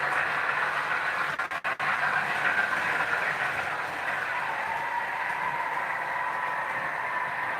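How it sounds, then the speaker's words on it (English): A model train locomotive runs steadily over dirty track, giving a continuous whirring, rattling hum with a brief clicking stutter early on, close and alone without talk. "So the dirty track with the dirty loco."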